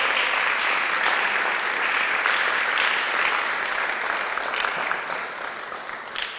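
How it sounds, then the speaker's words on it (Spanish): A church congregation applauds during an evening service, dense sustained clapping from many hands, loud and close, easing slightly toward the end. "Dale un aplauso al Señor esta noche, pues, hermano."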